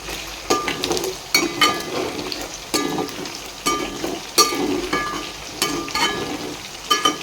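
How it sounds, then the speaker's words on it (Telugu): Gongura leaves and chicken pieces frying together in a pan for gongura chicken pickle, a steady sizzle broken every second or so by louder scraping stirs, close and with no talk. "ఒక పక్క గోంగూర ఫ్రై అవుతూనే ఉంది ఇంకొక పక్క చికెన్ చెక్ చేసుకున్నాము మన చికెన్ కూడా ఆల్మోస్ట్ ఫ్రై అయిపోయింది"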